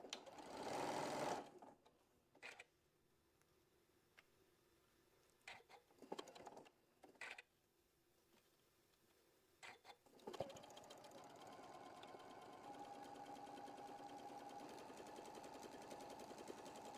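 A sewing machine stitches a quilt block seam in short bursts of rapid needle chatter, stopping and starting several times before running in one long steady stretch, close and clear with no talking.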